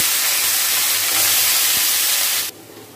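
Tomatoes dropped into hot oil for a fruit chutney set off a loud, close, continuous hissing sizzle that swells briefly and then drops sharply in level near the end.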